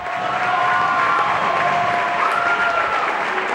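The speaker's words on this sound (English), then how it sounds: "Fans on their feet to cheer the Mocs." Basketball fans on their feet in a college gym, cheering and clapping in a loud, sustained roar that fills the arena.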